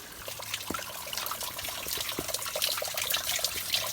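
A small mountain stream in the White Mountains of New Hampshire trickles and burbles nearby, a continuous gentle flow of water with small splashes and drips and no voices.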